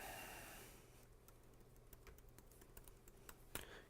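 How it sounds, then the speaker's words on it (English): Someone types on a computer keyboard during an OS install, a scatter of faint, sparse key clicks that grows slightly busier near the end, with no talk. "Keyboard is working"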